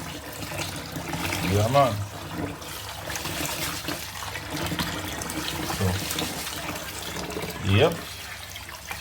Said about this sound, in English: we wash rice till the water clear